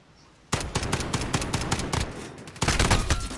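Rapid bursts of automatic gunfire in a competitive shooter match, sharp close cracks in quick succession after a short quiet start, with a brief lull before another louder burst.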